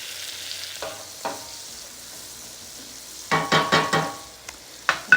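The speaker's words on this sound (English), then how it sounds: "I'm going to dump my onions into the hot bacon grease." Chopped onions dumped into hot bacon grease crackle and sizzle in a pan, with a few stirring scrapes and bursts of sharp popping toward the end; the frying is close and moderately loud, with no talking.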